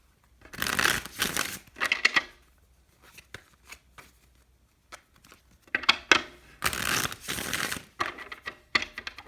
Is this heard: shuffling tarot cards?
yes